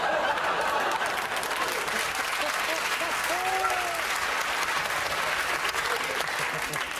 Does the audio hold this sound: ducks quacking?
no